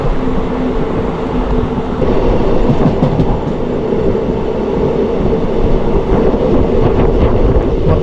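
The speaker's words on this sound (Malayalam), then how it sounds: "നമ്മുടെ ട്രെയിൻ അത് വളഞ്ഞു പൊയ്ക്കൊണ്ടിരിക്കുന്നത് അടിപൊളി കാഴ്ചയാണ്" A train rumbles steadily along curving rails past coconut groves and farmland, with continuous wheel noise and faint clickety-clack throughout, loud and close.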